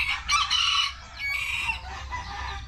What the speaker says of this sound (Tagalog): Ang tinis ng tilaok na yun.